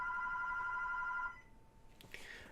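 A telephone bell rings in steady repeated trills during a Call of Duty World War 2 game session, fairly quiet, then stops midway and gives way to faint game sounds.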